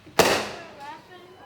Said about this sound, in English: that was a big old freaking firework